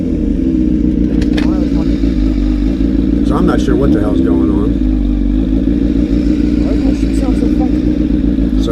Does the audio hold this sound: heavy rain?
no